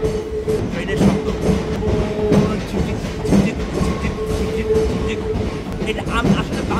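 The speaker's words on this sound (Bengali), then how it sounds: "এখানের যে ট্রেনের যে সাউন্ড যে ট্রেনের যে শব্দ" A train running along a railway track, heard from on board as a steady loud rumble with rhythmic clatter throughout, a faint tonal hum riding over it.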